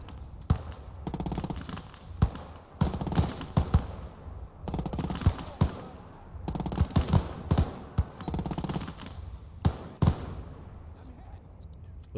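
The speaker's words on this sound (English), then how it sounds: "Little firefight going on the left side here" A nighttime WWII firefight in Gates of Hell: Ostfront crackles with machine gun fire, bursts of rapid shots and sharp single reports scattered across twelve seconds, some punchy and close, others quieter, with a voice talking over the battle.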